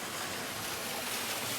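Water runs continuously down a pipe-fed artificial stream on hole 18 of an outdoor mini golf course, a steady close rushing wash with no talk.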